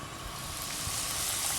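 Steady, dense sizzling of shishamo fish deep-frying in hot oil, a continuous crackling hiss that grows slightly louder, with no voices.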